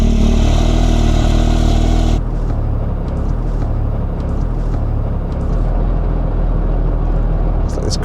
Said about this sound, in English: it's like this crazy rattling sound.